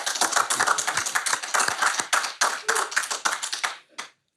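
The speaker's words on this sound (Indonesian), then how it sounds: "Tepuk tangan buat Setiawan Jodi." A studio audience claps for a guest on a talk show, giving a brisk, close burst of many hands that runs for several seconds before stopping abruptly.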